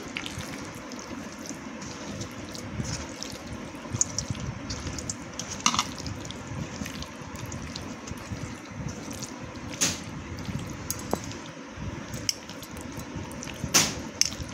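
Water is poured and splashed into tamarind pulp in a kitchen, with soft continuous trickling, small drips and occasional sharper sloshes heard up close and without talk.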